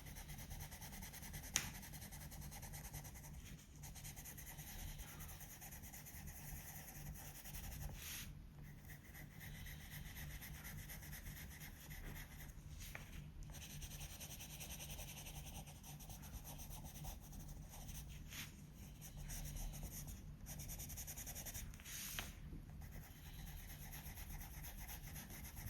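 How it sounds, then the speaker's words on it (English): A pencil rubs and scratches across paper while fine details are drawn into an adult colouring illustration of mystical mountains, a soft continuous close scraping with occasional small taps and pauses, no voices. "All the fine details will be done with pencil."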